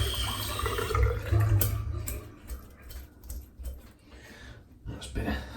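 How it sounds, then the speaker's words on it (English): Running water rinsing soap from a shaving brush at a sink, a steady close flow with splashes and a few sloshing bursts. "Just rinse the soap out."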